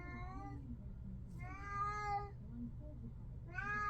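A house cat meows repeatedly and close by, with three drawn-out, wavering cries separated by short pauses over a low steady background hum.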